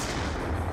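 Gunfire at a riot shield in Call of Duty Black Ops 2, a short dense burst of rapid booming shots, loud and continuous.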